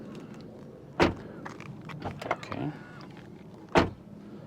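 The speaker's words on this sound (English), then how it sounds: "let's do a quick door sound check." Doors on a 2024 Ford Mach-E are shut, with two sharp, solid thuds a few seconds apart, a small whirring sound between them and a person speaking briefly.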